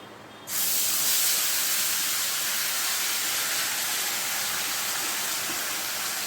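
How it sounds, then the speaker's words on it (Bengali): Spice paste drops into hot oil for a doi potol recipe, bursting into a loud, sudden hiss that holds steady and close for several seconds, broad and spray-like, with no voices over it. "এবারে তেলের মধ্যে দিয়ে দেবো"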